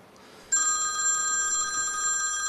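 A telephone bell starts ringing abruptly after a quiet moment and continues as a steady, bright electronic trill, close and clear with no talking.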